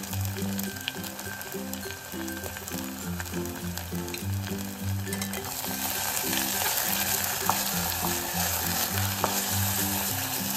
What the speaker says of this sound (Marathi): आता साधारणतः फक्त 1-2 मिनिटांसाठी आपण हा हलवा परतून घ्यायचा आहे